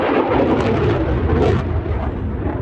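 A Eurofighter with EJ200 engines on reheat roars at an airshow, a loud, sustained broadband rumble that stays heavy throughout with no talking.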